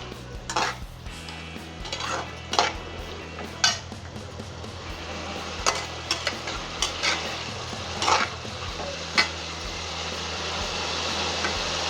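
Ivy gourd fry with curry leaves being stirred in a pan, a run of scraping, clinking spoon strokes against the metal at an uneven pace, over a low steady hum and with no talking.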